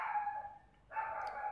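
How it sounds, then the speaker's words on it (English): Dogs barking at a distance behind a steady household hum during a home cleaning session, the barks faint and brief against the background. "They're just always dogs barking in my video"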